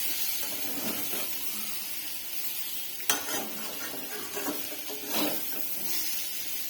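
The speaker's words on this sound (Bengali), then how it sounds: "একটু আলু ভাজা বসিয়েছি।" Potatoes sizzle steadily in a hot pan, a continuous close hiss broken by a few sharp scrapes and stirring clatters, with no talking.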